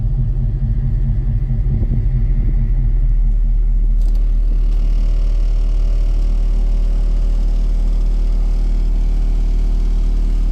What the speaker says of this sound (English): See how it does on 38 hertz. I'm gonna crank it up a little bit.